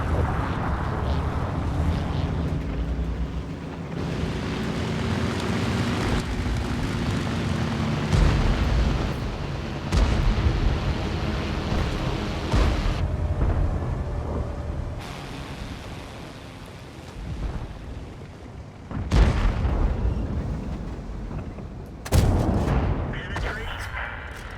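Artillery shells exploding in the World of Tanks game, a dense run of heavy booms and rumbling blasts over continuous battle noise, with sharp loud impacts near the end.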